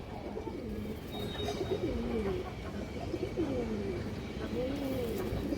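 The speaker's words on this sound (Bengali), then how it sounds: "এই দেখেন একবারে বুট ঠোঁটের পুরনো জাতের দোবাস কবুতর, কালো দোবাস" Several rolling coos from old-breed black Dobash pigeons repeat in a loose rhythm over steady low background noise, moderately close and fairly soft.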